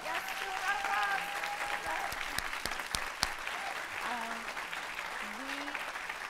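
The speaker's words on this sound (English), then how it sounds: "Yes, give a round of applause." An audience at an authors panel on race and identity applauds steadily throughout, with scattered voices and whistles mixing into the sustained clapping.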